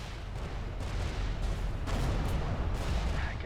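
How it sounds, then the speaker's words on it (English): Onboard explosives detonating on a freighter in the space game Everspace 2, heard as a dense rumbling barrage of booms and blasts that rolls on through the whole stretch with no talk. "Please attain some distance while I detonate the onboard explosives."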